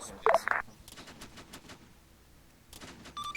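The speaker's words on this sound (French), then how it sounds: "On va s'en venir appuyer avec les tirs de suppression." Suppressive gunfire in ArmA 3, heard as a burst of sharp shots near the start followed by scattered, more distant cracks over faint background noise.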